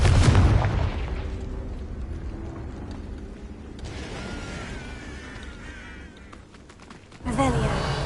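A Confringo spell explosion in the Hogwarts Legacy video game goes off as a loud, deep boom that opens the moment, and a second blast hits near the end, with a character voice and game sounds in between.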